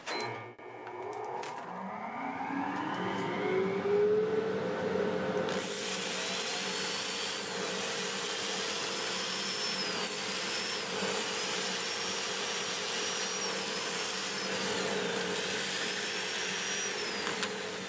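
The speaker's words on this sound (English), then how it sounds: "I'll start up my dust collector," Dust collector starts up and roars steadily beside a wood lathe turning black locust during sanding, a loud continuous whooshing hum with a rising whine as it spins up, running alone without talk.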